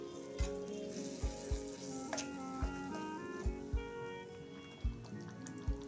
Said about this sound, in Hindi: मसालों को अच्छे से भून लेंगे